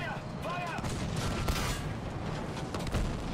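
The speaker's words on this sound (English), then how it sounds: "And a Calliope shooting at me from behind" Calliope rocket fire in Battlefield 5, a series of dull booming launches and impacts scattered over a rumbling battlefield din, heavy low thuds that stand out at irregular intervals.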